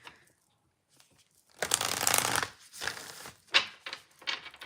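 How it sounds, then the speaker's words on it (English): Tarot cards being shuffled by hand, a dense riffling burst lasting about a second followed by a few shorter rustling flurries, close and fairly quiet, with no talking. "Let me just shuffle a little bit here."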